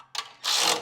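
A wrench tightening nuts on a Generac generator's valve cover: a quick metallic click followed by a short, brisk ratcheting burst, close and alone.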